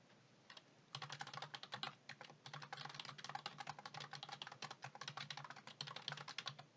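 A computer keyboard is typed on rapidly and continuously while data is entered into a spreadsheet, with the Alt, Enter and Tab keys among the presses, producing close, crisp clacking in quick irregular bursts.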